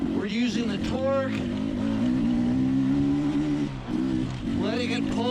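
A 2021 Beta 300 RR two-stroke dirt bike rides at an easy trail pace off the power valve, its engine droning steadily with brief revving rises and dips while a rider talks over it.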